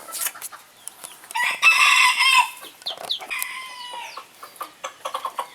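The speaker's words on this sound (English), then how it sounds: "Now, Mama Hen" A hen co-hatching duck eggs clucks close by in a run of sharp, uneven calls, with one longer drawn-out squawk and quick chattering notes.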